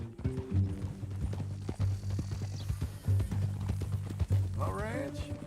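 Horse hooves clip-clopping in Red Dead Redemption 2, a steady rhythmic walking gait close by under a voice, with a brief snort or whinny toward the end.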